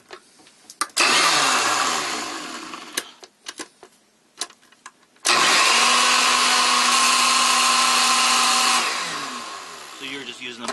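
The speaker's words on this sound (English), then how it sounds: "I'm going to use this blender just for this demonstration." Small blender whirs loudly while mixing a homemade skin formula, running in two long bursts separated by clicks and handling noises, the second burst steady before winding down.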